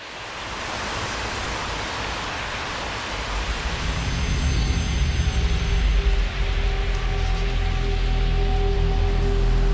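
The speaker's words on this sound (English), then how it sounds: "So that was a rain loop." A rain loop sample used in a dark UK garage track: dense, continuous rainfall hiss with pattering drops, building slightly louder, with faint tonal instrumental lines emerging beneath it.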